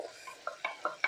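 Masala being stirred in a pan, a few quiet scrapes and light clinks of a spoon against the metal, close but faint, four or five short strokes in quick succession.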